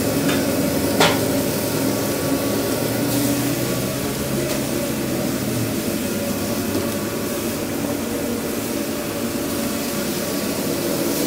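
Egg rolls and gyoza fry in a busy restaurant kitchen, a steady oil sizzle under clattering utensils, a few sharp knocks and a low mechanical hum.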